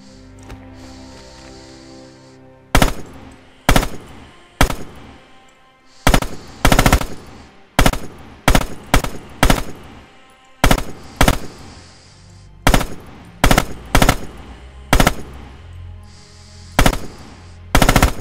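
Machine gun in the Red Orchestra 2 video game firing in short bursts, a series of loud, sharp clustered volleys separated by brief pauses over a quiet background.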